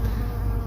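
Wasps buzz around garden plants, a close, steady droning hum that holds evenly for a short moment with no voices.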